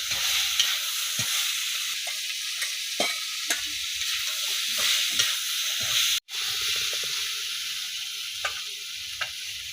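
Onion fries in a kadai with sugar added, making a continuous close sizzle and hiss with stirring scrapes and clicks, a brief dropout partway, and no voices.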